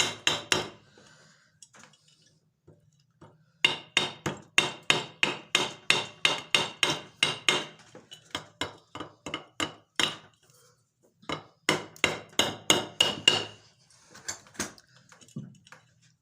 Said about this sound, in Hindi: इसको डालने के लिए हम हल्का सा हथौड़ी का इस्तेमाल करके